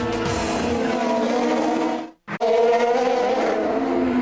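Formula 3000 race cars at Imola in the 2002 FIA championship, engines screaming loudly and continuously as the field runs from pit lane onto the front straight. A brief cut near the middle breaks the sound before it resumes.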